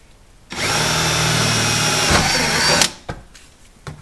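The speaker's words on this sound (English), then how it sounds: "first we're going to drill a pilot hole in here" A power drill bores a pilot hole into the body of a small micro service car, whining steadily for about two seconds and then cutting off, followed by a few faint clicks and knocks.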